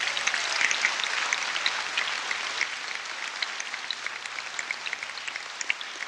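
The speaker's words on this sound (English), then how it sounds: "give yourself a round of applause" A crowd at a Los Angeles gathering claps for themselves, a moderately loud, crackling patter of many hands that thins to scattered claps as it continues.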